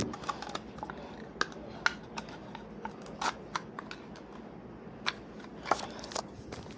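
Danone Suprix toy surprise package being opened up close: quiet crinkling and crackling of plastic wrapping with sharp little snaps and rustles scattered through, faint and irregular.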